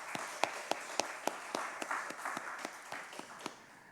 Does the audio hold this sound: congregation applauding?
yes